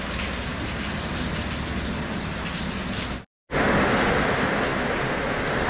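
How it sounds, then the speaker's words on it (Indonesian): Heavy rain pours down at a lake campsite, a dense, loud hiss of drops drumming on surfaces that cuts out for a split second before resuming just as strongly. "jadi walaupun hujan yang cukup deras"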